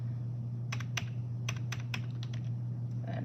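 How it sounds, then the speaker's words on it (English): A computer keyboard clicks in short, uneven bursts of keystrokes as a table of numbers is typed into Desmos, each tap close and fairly faint over a steady low hum, with no talk. "I'm going to type the table in"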